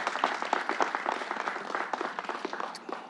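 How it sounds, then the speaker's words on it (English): A crowd claps for a labor leader at a political event, individual hand claps distinct within a lively, uneven round of applause that stays fairly close and moderately loud. "Let's give him a round of applause."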